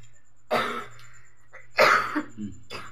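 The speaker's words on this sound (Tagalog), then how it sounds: "Umubo pa yan." A person coughs twice, close and fairly loud, with a short throat-clearing rasp between and a faint third cough after, over a low steady background hum.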